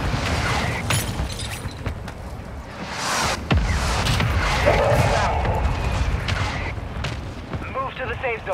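Mortar strike explosions in the Warzone 2.0 video game on a new map, with booming blasts and crackling debris spread across the clip under dense game noise and a voice talking.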